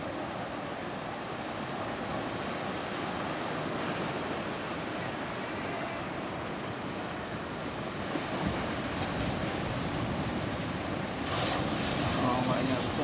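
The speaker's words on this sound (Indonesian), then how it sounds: "Ombaknya besar." Big waves surge around a small boat with a Tohatsu 9.8 hp outboard, a constant wash of surf and wind noise with a few louder swells near the end.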